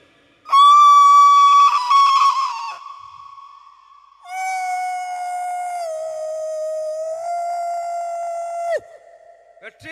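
A voice imitates a train whistle, a loud, long, close hooting tone held for several seconds, then a second long wavering blast that drops in pitch before stopping.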